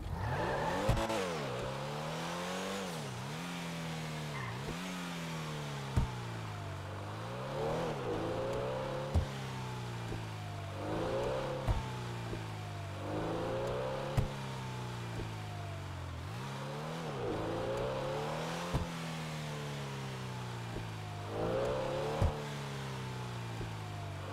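A Pfister Comet S2 sports car engine in GTA V Online revs and shifts through gears repeatedly, rising whines dropping at each change with clunks between, loud and close, alone without talk.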